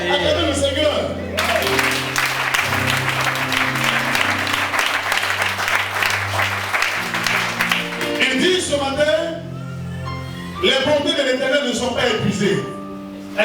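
Congregation at a church service applauding and cheering the Lord, a dense wash of clapping and voices over steady musical tones, with a brief lull near the end before the applause swells again.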